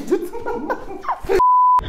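A mobile phone goes off with a steady electronic beep tone lasting about half a second, right after a stretch of casual talk and light laughter.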